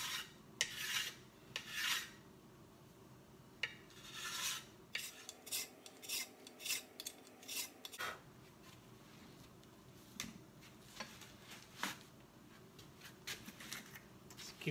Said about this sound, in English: especially if you're using a rasp, scraping is going to help get rid of those tool marks a lot quicker than sandpaper